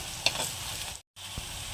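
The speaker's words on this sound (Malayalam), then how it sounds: "ഇഞ്ചി വെളുത്തുള്ളി ചുവന്നുള്ളിയൊക്കെ നന്നായിട്ടൊന്ന് മൊരിഞ്ഞ് കിട്ടിയിട്ടുണ്ട്" Soft sizzling of ginger, garlic and shallots frying in a pan, with a few light stirring scrapes and a brief silent gap midway.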